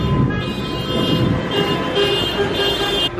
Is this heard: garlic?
no